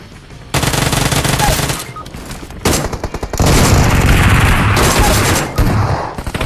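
Rapid Uzi submachine gun bursts in PUBG Mobile, loud repeated automatic fire in several long volleys with brief pauses, close and dense.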